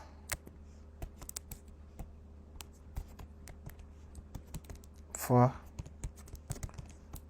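Someone types a story on a computer keyboard in sparse, irregular clicks, fairly close, with a short burst of a voice partway through.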